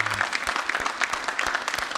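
A church congregation applauding, dense steady clapping from many hands filling the room throughout, fairly loud and close.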